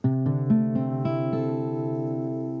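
A guitar strums a barre chord, the strings ringing out together and sustaining as the tone slowly fades, close and clear.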